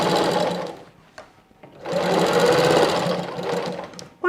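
A sewing machine runs close and loud stitching the binding seam onto a quilt, a burst of whirring stitches, a brief pause with small clicks, then a longer sustained run.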